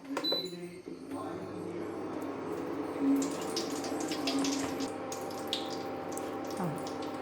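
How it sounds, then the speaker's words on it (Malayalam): Coconut oil trickles steadily into a pan in a soft, continuous pour while someone talks nearby. "വെളിച്ചെണ്ണ ഒഴിക്കാം"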